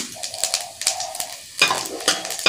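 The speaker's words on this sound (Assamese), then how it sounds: "ইয়াতে মই শুকান জলকীয়া তিনি চাৰিটামান দি দিছোঁ আৰু ডাঙৰ চামুচখনেৰে হাফ চামুচ গোটা জিৰা দিছোঁ" Dry red chillies and whole cumin seeds fry in a little oil on lowered gas heat. Sharp crackles and spatters come in bursts close to the pan, and a louder flare of sizzle follows midway.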